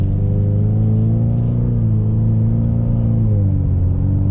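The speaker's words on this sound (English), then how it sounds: "it's a loud exhaust on it, and it's got plenty of torque" Loud, deep idling and revving of a 2021 Ford Mustang 2.3 L High Performance Package with a loud, throaty exhaust rumble, steady and close throughout.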